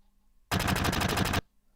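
A rapid burst of automatic gunfire from the video game Final Fantasy VII, about ten evenly spaced shots rattling off in under a second, loud and close, preceded and followed by near silence.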